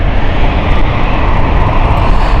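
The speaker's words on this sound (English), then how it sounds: "A particular aircraft inbound today" An inbound aircraft arriving at London City airport makes a loud, continuous, broad engine roar that holds steady and close throughout the short stretch.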